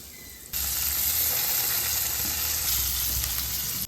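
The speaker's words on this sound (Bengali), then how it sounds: "এরকম হালকা করে পনির ভাজলে পরে পনিরের ফ্লেভারটা পুরোই পাওয়া যায়" Paneer cubes frying lightly in oil in a pan for a Bengali paneer bhapa dish: a steady, loud, close sizzle that starts abruptly and holds evenly to the end, with no talk.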